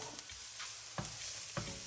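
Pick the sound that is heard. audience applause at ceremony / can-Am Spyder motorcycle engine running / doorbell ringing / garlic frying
garlic frying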